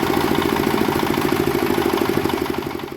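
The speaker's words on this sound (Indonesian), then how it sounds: "sabu seberat 27 kg lebih dihancurkan melalui mesin molen atau mesin pengaduk semen di halaman samping Mapores Biren" A cement mixer machine chugs steadily, running with a rhythmic mechanical clatter while it grinds up more than 27 kg of crystal meth in an outdoor yard beside a police station, loud and close and easing slightly at the end.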